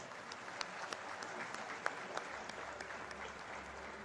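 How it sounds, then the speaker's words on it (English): Audience applause for award winners at the Vidarbha Udyog Gaurav Awards ceremony, a steady wash of clapping from a large crowd with a few sharper individual claps standing out, moderately faint and continuous. "let us have a combined round of applause for all the award winners."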